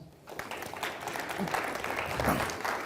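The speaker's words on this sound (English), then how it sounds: "So give Dan a round of applause" Applause from an audience greeting speaker Dan at an ecommerce talk, a steady wash of clapping at moderate volume lasting throughout, with a few voices mixed in.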